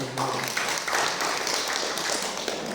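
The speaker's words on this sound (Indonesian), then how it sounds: "Tepuk tangan dulu buat Tuhan." A church congregation applauds during a Sunday service, a brief burst of many hands clapping together in a room, loud and steady for a few seconds.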